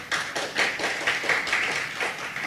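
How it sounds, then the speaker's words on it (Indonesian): A church congregation clapping together during a worship service, a steady rhythmic run of claps at a brisk, even pace, moderately loud and fairly close. "Tepuk tangan yang ya."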